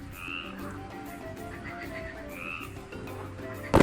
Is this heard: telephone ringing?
no